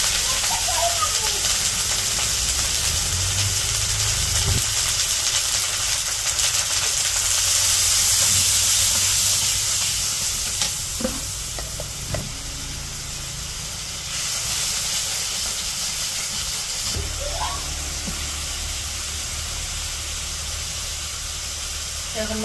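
Onion and green chili sizzle in a hot wok, a steady broadband frying hiss that swells and eases over the stretch, with a few faint clinks and a low background hum.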